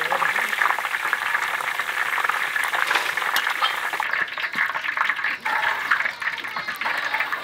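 Hot oil in a large wok for a spicy beef-tallow hotpot base, with ginger and scallions frying in it, giving a dense, continuous close-up sizzle and bubbling with no talk.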